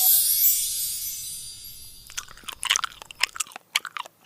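Someone bites and chews a Jollibee burger close up, with moist crunchy bites and chewing smacks in an irregular rhythm through the second half, following a bright hiss at the start. No one talks.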